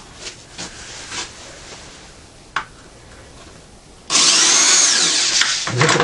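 A power drill drives screws into wood while a picnic table is assembled: faint knocks and clicks come first, then a loud, steady whining drill run near the end.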